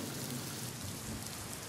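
Monsoon rain falls in the Konkan region as a faint, steady patter and hiss that continues evenly through a short stretch.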